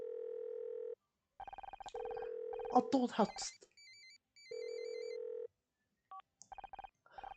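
A telephone rings in the Murder by Numbers detective game, its steady electronic trills repeating in regular bursts with short gaps, clear and close, while a voice talks between the rings.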